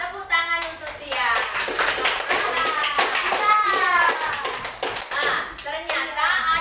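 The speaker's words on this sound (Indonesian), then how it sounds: "Tepuk tangan untuk Tia." Schoolchildren clap together in a classroom during a local-culture lesson on making onde-onde, sharp rhythmic hand claps with children's voices chattering and calling out over them.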